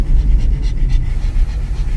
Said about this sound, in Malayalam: ഇവിടെ ഒരു പട്ടിയുണ്ട്